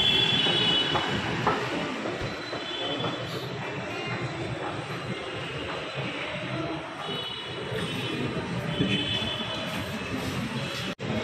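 Busy metro station with trains running, a steady loud rumble of rail cars and wheel noise filling the space, with faint crowd sounds mixed in throughout.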